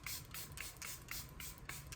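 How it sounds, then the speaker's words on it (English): Setting spray mists onto a face in a quick run of short, faint spritzes, each a soft hiss repeating at a steady, rapid pace. "Last up is setting spray."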